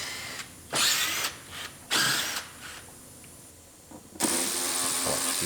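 Power drill whirring in short bursts while removing screws from the bumper covers of a rebuilt GMC Terrain, with a longer run at the end over faint workshop clatter.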